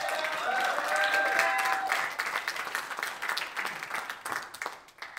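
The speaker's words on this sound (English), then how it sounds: "Give him a round of applause." A church congregation applauding at a Sunday morning service as a man comes up to share his testimony, full clapping that swells, then thins and fades toward the end, with a few cheering voices early on.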